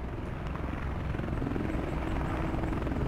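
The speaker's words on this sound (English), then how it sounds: "Chopper is hovering." A video game helicopter hovers in a military shooter, its rotor making a steady, loud, unbroken whir that fills the whole stretch with no break.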